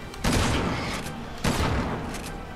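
Two loud, booming gunshots from point-blank shooting in Resident Evil 6 ring out about a second apart, each trailing off into a short decay.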